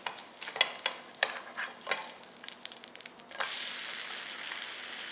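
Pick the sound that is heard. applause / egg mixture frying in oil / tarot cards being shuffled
egg mixture frying in oil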